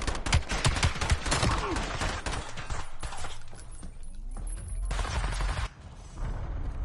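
Dense, continuous automatic gunfire and explosions from the shooter game Black Ops 7, loud and close, with a short lull near the end before firing resumes, a voice faintly under it.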